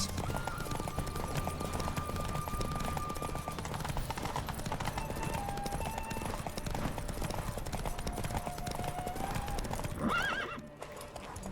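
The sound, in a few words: horse galloping in video game The Witcher 3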